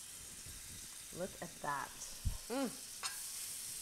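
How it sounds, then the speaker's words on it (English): A salmon cake coated in breadcrumbs sizzles in hot brown butter in a pan, a soft, steady frying hiss beneath a few brief spoken words. "That sizzle of that butter, it's gonna brown the breadcrumb"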